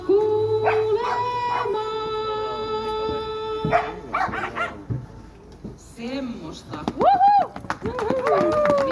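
Dogs bark and whimper at an animal Christmas peace gathering in Raahe, Finland, with several yelps and barks in the latter half mixed among people speaking and a sustained musical tone early on.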